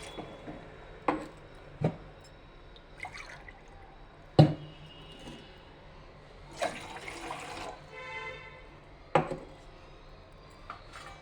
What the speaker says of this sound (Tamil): ஒரு 2 டம்ளர் தண்ணி ஊற்றிக்கலாம்.